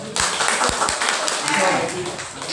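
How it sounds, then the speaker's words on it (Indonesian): Audience at an Indonesian motivational training session clapping, a brisk patter of hands following a few sharp taps, mixed with some voices. "Tepuk tangan dong."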